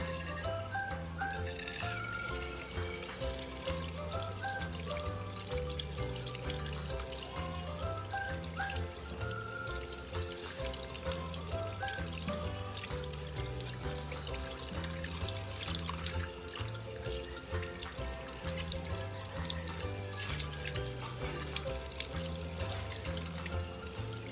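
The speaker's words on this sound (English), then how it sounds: "Next, we will rinse our hands with water." Tap water runs steadily and splashes without a break as hands are rinsed under it, with a music bed with a repeating bass pattern playing underneath throughout.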